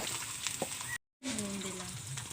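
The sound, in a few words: frying eggplant in oil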